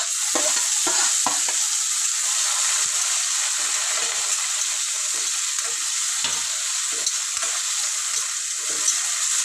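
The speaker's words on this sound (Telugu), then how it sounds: "ఇట్లా కలుపుతో చిన్నగా అయితే సిమ్లో అయితే దోరగా వేయించుకున్నాము." Green chillies, tomato and fenugreek leaves frying in a pan for chicken curry, with a steady close sizzle throughout and soft scraping stirs of a spoon at irregular intervals.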